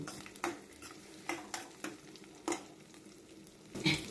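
Cumin seeds, black peppercorns and dried coriander seeds are sautéed in oil for a horse gram lentil dish, with a soft sizzle under repeated spoon scrapes and clinks against the pan at a steady, uneven rhythm.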